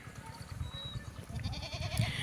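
Goats and kids bleating faintly nearby while tethered at feeding time on maize, with a wavering higher call toward the end, over a low background murmur.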